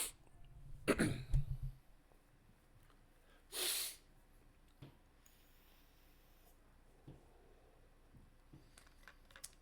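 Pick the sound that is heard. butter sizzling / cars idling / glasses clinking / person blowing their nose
person blowing their nose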